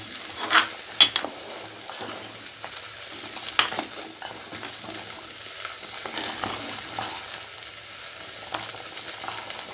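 Ingredients fry for a nalli bhindi gravy in a pan with a steady close sizzle, and a utensil stirs and scrapes with sharp clicks, heaviest early on, with no talking.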